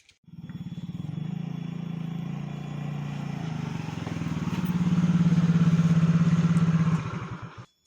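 A motorcycle engine idling close by with a steady low chugging throb that swells louder midway, then sputters and cuts off at the end.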